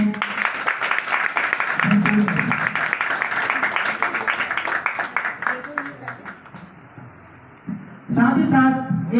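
An audience in a Dhanbad foundation office claps steadily for an honouring ceremony, a dense patter of applause running under a speaker's voice and swelling again near the end.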